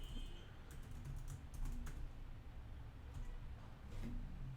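Bursts of typing on a computer keyboard while a bot username is entered, clustered clicks followed by a pause and then a couple more keystrokes, near and moderately loud over steady room noise.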